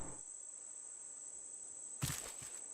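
Steady, high-pitched chirping of crickets on an island in the video game Raft, a continuous faint drone broken by a brief louder burst of other game sound near the end.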